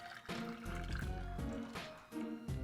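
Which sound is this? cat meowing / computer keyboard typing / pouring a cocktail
pouring a cocktail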